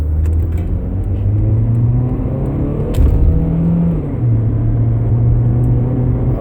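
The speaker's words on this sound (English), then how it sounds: "I'm going to accelerate hard on a road test here and see what we see" A car accelerating hard on a road test while a misfire is being diagnosed; a loud, close, continuous engine drone climbs in pitch, dips briefly at a shift and keeps pulling.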